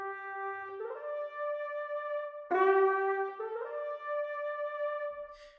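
Sampled brass band soloist patch playing a legato run at hard velocity, a few sustained brassy notes sliding into one another with a sharp accented attack partway through, clear and close with no talk.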